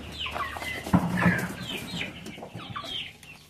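Free-range chickens cluck and squawk nearby in irregular bursts, with a brief flurry of activity partway through over a faint background hum.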